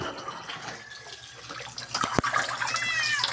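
Running tap water while washing up at a kitchen sink, steady splashing throughout, with a cat meowing a few times in short rising calls, one sharp knock partway through.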